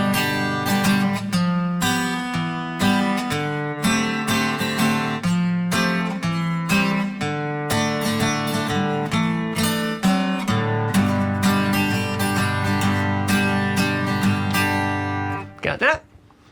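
An acoustic guitar strums the chords of a song slowly and clearly, close and full, with ringing open strings and a final chord cut short at the end.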